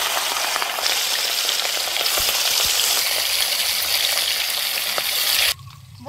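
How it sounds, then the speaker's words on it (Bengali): Katla fish fries loudly in hot oil in a wok, a dense, close crackling sizzle that runs steadily for several seconds before cutting off abruptly near the end. "এইবার মাছটা কড়াইতে দিয়ে দেব।"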